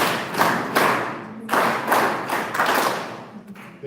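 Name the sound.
audience clapping on count of three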